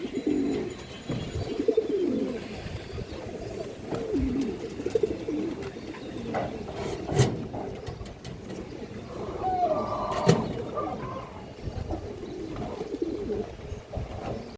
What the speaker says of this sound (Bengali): এটা আমার একটা উড়ানো কবুতর, কবুতরটা প্রচুর ভালো ফ্লাই করে দর্শক